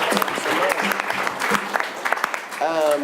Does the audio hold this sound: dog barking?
no